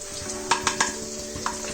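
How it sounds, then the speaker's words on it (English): Cashew nuts and onions frying together in a pan give a steady sizzle, with several sharp scraping clicks from stirring breaking through near the start and again later. "So now add the cashew nut to the onion. It has to still get fried a bit."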